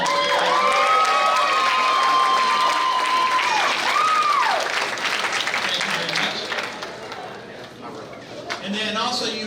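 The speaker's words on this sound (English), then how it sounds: "let's give them a round of applause" Broad, steady clapping from a crowd at an awards day fills the room, with a voice and tonal sounds over it early on, the applause gradually thinning out.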